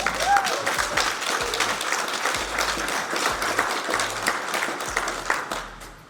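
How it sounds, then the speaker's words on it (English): An audience gives a presentation a steady round of applause, dense clapping that runs throughout with a few low thumps and faint voices underneath. "Everybody give Matt a big round of applause."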